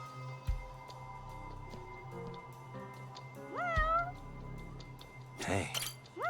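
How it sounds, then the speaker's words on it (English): A cat meows several times with rising, drawn-out cries, the loudest near the end, over a steady low room hum and faint background sounds. "I hear a cat."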